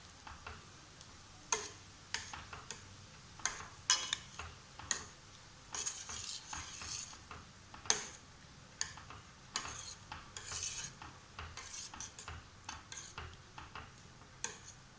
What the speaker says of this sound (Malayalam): നമുക്ക് നല്ലോണം മിക്സ് ചെയ്ത് കൊടുക്കാം